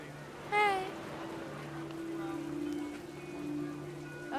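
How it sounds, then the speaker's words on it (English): Steady rain patters continuously in the video game What Remains of Edith Finch, with a brief chirping call near the start and faint tonal sounds mixed in. "The rain came down in buckets then"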